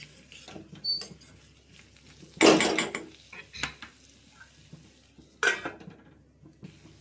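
Metal pot lid set onto a pan of cooking dondakaya (ivy gourd) curry, a loud clattering clank with a few smaller knocks and utensil taps around it, over a quiet kitchen.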